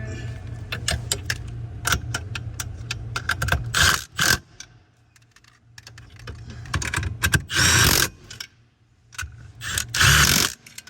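Ratchet clicking as bolts are tightened on a 2006 Nissan Altima steering column, with bursts of rapid mechanical clicks and metallic handling noise and quieter pauses between them, close up.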